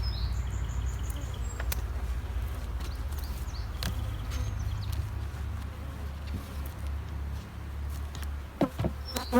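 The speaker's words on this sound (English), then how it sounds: "Still a few bees" Honey bees swarm around a hive super during honey harvest, a dense steady buzz with a low droning hum throughout and occasional sharp ticks close by.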